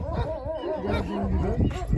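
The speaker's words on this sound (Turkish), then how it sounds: "Süper köpekler. Hakiki saf kangallar." Several Kangal dogs barking and whining in short overlapping bursts, close by, with people talking underneath throughout, in Sivas, Turkey.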